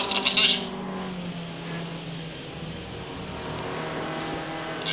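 Formula 2 race cars from a 1972 race overtaking, engines droning and whining steadily at moderate distance beneath someone commentating.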